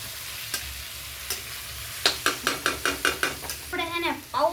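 Poha with curry leaves being stirred in a frying pan, a soft sizzle under a quick run of spoon scrapes and taps, close and fairly quiet.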